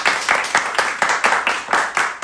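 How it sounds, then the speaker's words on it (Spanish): Audience applause of welcome at a Spanish-language talk, a dense wash of many hands clapping steadily with rhythmic surges, fairly loud and close, with no talking. "le vamos a dar un gran aplauso de bienvenida"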